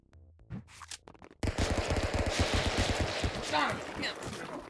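Gunfire in the video game Stick Fight, a rapid automatic rattle of shots that starts abruptly and continues dense and loud over busy game noise. Brief voices are heard just before it.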